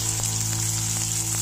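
Steady, close sizzling of finely chopped onions frying in hot oil, a continuous crackle with scattered small pops, no voices.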